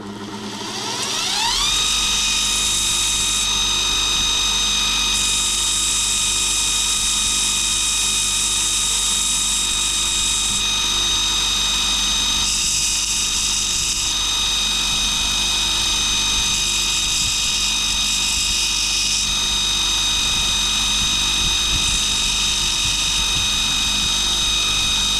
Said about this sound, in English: it's a lot quicker to use the linisher.